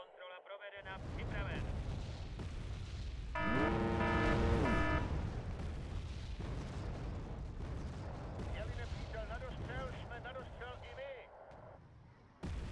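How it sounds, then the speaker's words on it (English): Mortar barrages in the war strategy game Wargame: Red Dragon, a dense stretch of booming impacts and rumbling blasts layered with other game sounds, while someone talks over it. "Look at this beautiful mortar spam"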